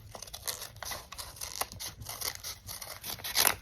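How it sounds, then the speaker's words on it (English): Small scissors cut fabric for a mermaid doll, producing a quiet series of close, crisp snips and soft scraping strokes in an uneven rhythm. "I'll just use some smaller scissors for these"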